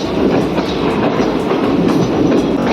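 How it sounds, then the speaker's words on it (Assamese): A train running through a long railway tunnel, loud continuous rumble with rhythmic clickety-clack of wheels over rail joints, heard close from inside a carriage with no talk. "টানেলৰ ভিতৰত ট্ৰেইন সোমাই গৈছে"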